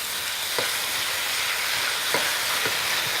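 Stir-frying in a wok at a restaurant with caramelized oyster sauce, a steady close sizzle broken by a few sharp scraping stirs, no talking.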